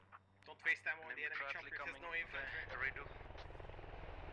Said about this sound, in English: we've also got a one-man in the chopper